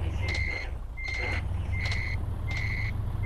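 A truck reversing in the Euro Truck Simulator 2 video game gives four evenly spaced, loud electronic reverse beeps over a steady low engine rumble.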